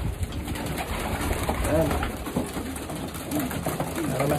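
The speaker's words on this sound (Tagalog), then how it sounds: "Para makikita nyo po yung mga kalapati" Pigeons cooing in a loft's hen section, soft low coos rising and falling near at hand over a steady background hum, with a person speaking at points.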